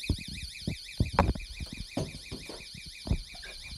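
A repeating electronic alarm tone rigged to a bedroom door warbles steadily throughout, with knocks and rustling thumps sounding underneath it.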